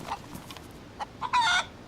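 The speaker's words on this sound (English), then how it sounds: "There's a chicken." A chicken in the survival video game DayZ lets out a few short clucks, ending in a louder, brighter squawk, with quiet ambient game noise between the calls.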